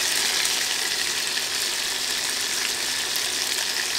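Sizzling cooking oil in a pan used for frying sambal terasi ingredients before eggs, a steady dense hiss that fills the whole stretch without pause and with no one talking.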